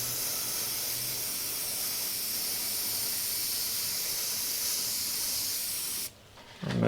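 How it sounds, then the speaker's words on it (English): Airbrush hissing in a steady, close spray of white paint over a skull stencil, lasting several seconds before cutting off abruptly, followed by a brief clatter. "I'll only do this area because I'm only going to spray in here lightly"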